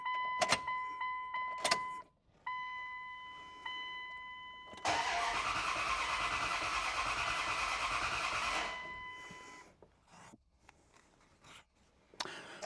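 Ignition key on a second-generation Dodge Ram truck cycled several times: a few sharp clicks and chimes, then roughly four seconds of loud starter cranking without catching, followed by more scattered clicks and short bursts.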